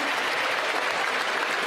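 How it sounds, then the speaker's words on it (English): Members on both sides of parliament clapping as the federal budget passes, a continuous even patter of many hands applauding together without a break. "Both sides clapping"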